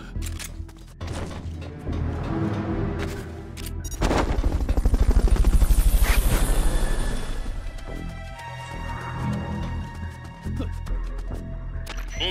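A helicopter in the video game Metal Gear Solid: Peace Walker, its loud rapid rotor thumping swelling to a peak mid-way and then easing off, with game sounds around it.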